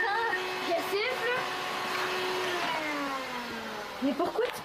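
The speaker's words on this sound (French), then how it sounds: "Mais pourquoi tu passes l'aspirateur, là?" A household vacuum cleaner runs steadily indoors, its continuous whirring drone sitting under people talking.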